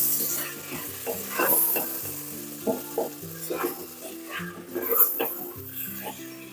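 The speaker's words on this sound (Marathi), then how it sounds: "टमाटर आणि वाटाणे हे सर्व यामध्ये आपण घातलेलं आहे आणि सर्व आता मिक्स करून घेऊया." Potatoes, tomatoes and peas being stirred in a sizzling pan for veg biryani, a steady fry with repeated close scraping strokes of a spoon throughout.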